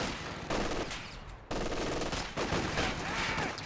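MG42 machine gun in the strategy game Company of Heroes 2 firing several short, rapid bursts amid dense battlefield gunfire, loud and continuous with brief gaps between volleys.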